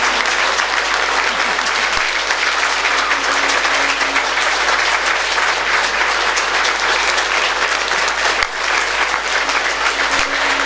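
Sustained, loud applause from a satsang audience fills the whole stretch, dense and steady without a break, with a few sharper claps standing out near the end.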